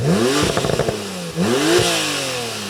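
A Porsche 911 Turbo S with a new exhaust revs up twice, each rise in pitch followed by a drop and a brief clattering burble in between, loud and close, with no talking.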